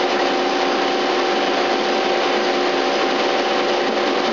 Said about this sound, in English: we're just gonna run the spindle here